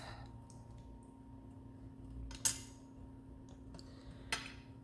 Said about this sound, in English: So I'll just cut a piece of the top off.